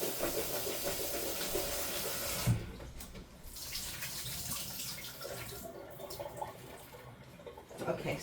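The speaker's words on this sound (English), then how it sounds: "I just want to give this a quick little rinse." Kitchen tap water runs in a steady hiss as something is rinsed under it, with a splashy burst partway through and then a quieter, uneven stream, close and moderately loud.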